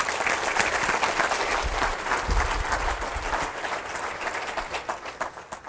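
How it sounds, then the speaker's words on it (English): An audience's round of applause for a speaker named Jay, a dense, loud clapping from a room full of people that holds steady and then thins toward the end. "Round of applause for Jay, ladies and gentlemen."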